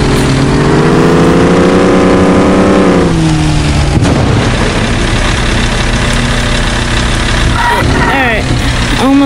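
An old rusty Dodge engine runs loud and close, its pitch sliding down before it settles into a rough, steady drone with some clatter.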